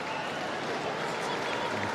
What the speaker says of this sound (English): He's getting a nice applause here